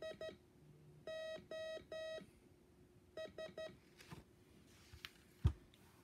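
Morse code SOS in clear electronic beeps: three short tones, three longer tones, then three short again, fairly faint over a low hiss, followed by scattered soft clicks and a thump.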